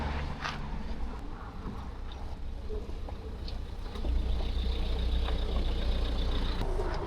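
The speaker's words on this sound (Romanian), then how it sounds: "Și noi mai pornim motorul, împingem în față." A vehicle engine starts after refuelling and the vehicle pulls away: a steady low rumble with broadband road or wind noise that grows noticeably louder about halfway through.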